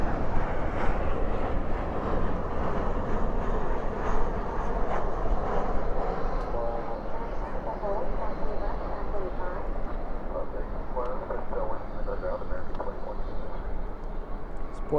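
An airliner landing at DFW airport at night, spoilers up and thrust reversers deployed, giving a broad, loud, sustained jet roar that slowly fades, with people talking over it.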